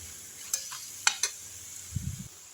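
Onion, green chili and shark fish masala sautéing in a pan, a soft steady sizzle with a few sharp clicks of a spoon against the pan and a brief stir near the end.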